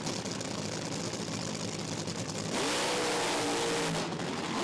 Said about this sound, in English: You can adjust the air and fuel bleeders on the left-hand side of the motor to make sure it's the perfect combination on idle.